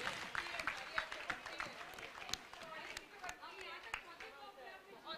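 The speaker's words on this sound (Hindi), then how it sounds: "ताली बजाएं यशस्वी के लिए" An audience claps for a race participant at a school or community event called Karmsarthi 2022. The applause is faint and scattered, with sparse claps and crowd chatter beneath an announcer speaking.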